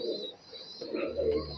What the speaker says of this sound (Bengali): এই চীনা কবুতর